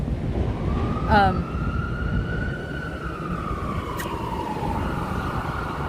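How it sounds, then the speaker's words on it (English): An ambulance siren passes outside, a single rising-and-falling wail heard through ambient noise, with a brief sharp click or chirp early on. "Nope, it was an ambulance."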